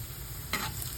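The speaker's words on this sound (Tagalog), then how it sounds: "Una, maglisa tayo ng luya para mawala yung lansa" Ginger sizzles and is stirred in a hot pan while cooking ginataang mackerel, a close, steady frying hiss broken by two brighter bursts as the pieces are tossed and scraped, with no voices.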